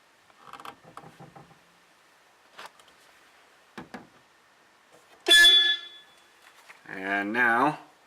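A repaired VW Bus horn sounds twice, first as a short blast and then as a longer honk, after some faint clicks and creaks from working on the steering wheel.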